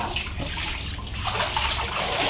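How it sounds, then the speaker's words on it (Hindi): Water splashes and rushes steadily into a cool pool inside a cave-style Shiv temple in Preet Vihar, Delhi, a continuous close wash of sound with no talk. "यहाँ नीचे देखिए पानी भी भरा हुआ है"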